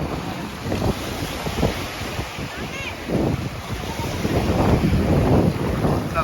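Ocean waves wash onto Mirissa beach in Sri Lanka, rushing and surging in uneven bursts under heavy wind buffeting on the microphone, with no clear voices heard.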